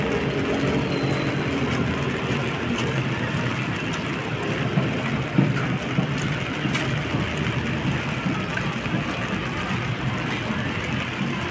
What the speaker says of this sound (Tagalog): Grabe ang ulan ngayon